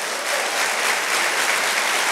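Church congregation breaking into loud, sustained applause in a worship service, a dense wash of clapping from many hands that keeps going without pause.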